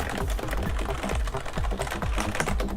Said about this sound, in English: it's the white Rosewill mechanical keyboard